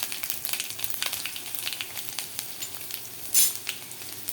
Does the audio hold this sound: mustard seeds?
yes